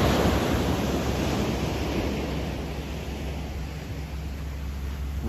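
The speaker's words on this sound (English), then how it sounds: "Ocean." Ocean surf rolls onto the beach at Santa Cruz, a loud, broad wash of breaking water that slowly eases over a few seconds, with some wind rumble against the microphone and no talking.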